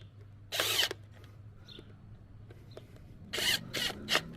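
A power drill drives screws in short bursts, two distinct whirring runs with a pause between them, close and fairly loud, on a homestead project.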